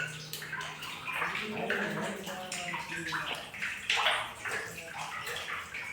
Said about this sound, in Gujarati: મિત્રો ફૂલ પાણી આવી ગયું છે